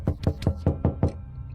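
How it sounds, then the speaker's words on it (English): A door is knocked six times in a steady, evenly spaced rhythm of sharp, close raps, followed by a brief quiet tail, with no voices. "And then suddenly there was a knock on Stacy's door."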